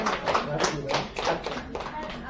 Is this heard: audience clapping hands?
yes